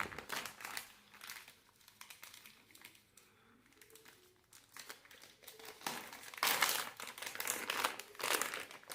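Plastic packaging crinkling and rustling close up as a Bluetooth audio receiver is unboxed, with irregular handling bursts, a quieter stretch in the middle and louder crackling toward the end.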